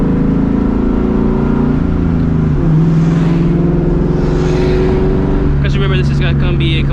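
A 2004 Ford Mustang GT V8 cruising at part throttle from the driver's seat, its engine a loud, steady low drone that shifts pitch slightly with the road speed, while a voice talks over it.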